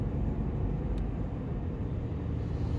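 A Nissan Magnite with an AMT gearbox accelerates in second gear on the road, heard from inside as a steady, moderately loud low engine and road rumble without pauses.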